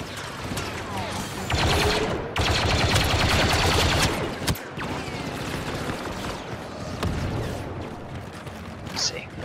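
Blaster and rapid gunfire from the video game Star Wars Battlefront 2 crackle in loud sustained bursts with sharp single shots between, while a player talks over the action.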